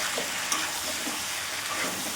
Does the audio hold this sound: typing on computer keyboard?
no